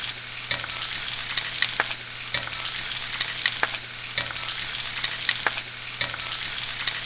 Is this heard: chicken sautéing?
yes